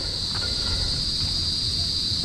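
Crickets at night producing a constant high, shrill chirring drone that holds steady at even volume from start to finish, with a low background rumble beneath.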